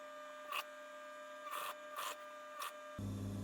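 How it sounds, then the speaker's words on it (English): An electric sewing machine stitches a quarter-inch seam around a fabric face mask, a steady motor whir broken by short bursts of louder stitching at close range, ending in a lower rumbling hum. "You stitch a 1/4 inch turning all the way around the mask"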